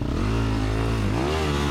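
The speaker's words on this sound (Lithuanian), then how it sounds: "motociklą biškį žemyn pasistūmiau" An enduro motorcycle engine drones at steady high revs on a hill climb, then its pitch dips and rises again as the throttle changes, loud and close throughout.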